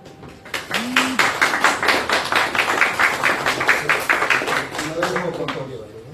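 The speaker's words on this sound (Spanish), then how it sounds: "viene a hablarlo don Pablo Noboa Álvarez, al cual pido un aplauso." A lecture audience claps for an incoming speaker at a talk on pre-Columbian culture in the Canary Islands. The applause is dense and sustained for about six seconds, with a faint voice-like tone near the start and again toward the end.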